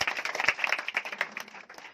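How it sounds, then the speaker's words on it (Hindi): A seminar audience claps in brief, light applause made of many quick overlapping hand claps that taper off over a couple of seconds. "हम चाहते हैं अपने लिए जोरदार तालियां दोस्तों।"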